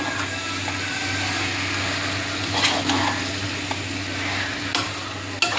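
Chicken being turned in masala in a pan for a Kerala-style chicken curry, a steady close sizzle with occasional scraping stir sounds, with no one talking.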